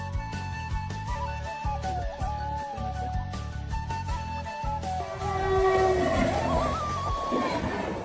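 A train races past a level crossing near Serampore, with a loud, steady rhythmic clatter of wheels on rails and a long horn tone, swelling into a rushing roar near the end.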